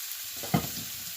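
Raw beef dropped into a pan of sautéed onion and garlic gives one sudden sizzling burst over a steady background hiss of frying, close and brief.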